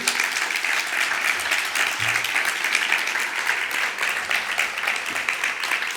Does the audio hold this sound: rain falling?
no